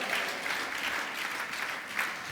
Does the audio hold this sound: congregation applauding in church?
yes